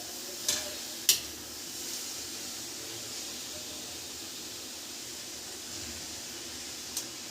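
Chopped bottle gourd cooks in a pan for halwa with a steady soft sizzle and hiss throughout, broken by a couple of sharp clicks of a utensil near the start and one more at the end.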